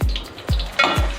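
Green chillies, cashews and cinnamon roasting in oil in a pan for veg pulao, with three loud spoon-scrape strokes at a steady rhythm over a continuous close sizzle.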